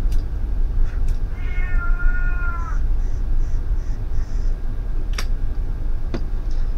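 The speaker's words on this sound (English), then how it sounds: "And he gets interrupted by an orange cat who just won't shut up." An orange cat lets out a drawn-out, wavering meow up close, followed by a few sharp ticks and knocks in a quiet room.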